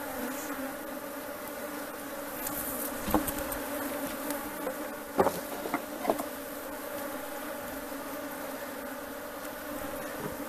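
Honeybees buzz steadily around a hive fitted with a honey super, a dense continuous drone with a few louder bees passing close by, with no talk.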